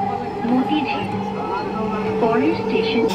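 A Dhaka Metro Rail train running at speed, a steady low rumble and hum with rising motor whine, heard from inside the carriage while people talk throughout.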